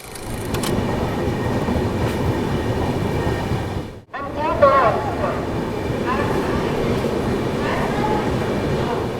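The Antyodaya Express from Varanasi City to Darbhanga runs with a steady, loud rumble and rail clatter throughout, cut by a brief drop near the middle, and a voice is heard faintly.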